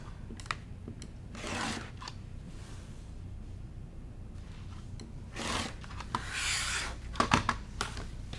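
Quilting fabric from a jelly roll is cut into strips, heard as a few short rasping swipes of cutting spread between soft taps and shuffling of material and ruler, close and fairly quiet without talking.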